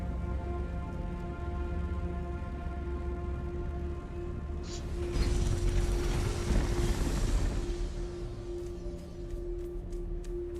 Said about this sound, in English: We're gonna try the vacuum back and forth here